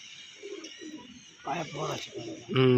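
A pigeon gives soft, low, rolling coos close by, repeated several times under someone talking, with a brighter burst of sound at the end.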